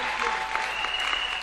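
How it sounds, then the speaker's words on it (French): A church congregation claps together, a thick, steady burst of applause filling the room briefly with a faint voice beneath. "Est-ce qu'on peut applaudir pour Jésus?"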